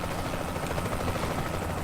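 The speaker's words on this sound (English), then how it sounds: "that helicopter flies like it's on the rails" Helicopter in the video game Saints Row The Third, a steady loud rotor and engine drone holding at constant volume throughout, with no speech.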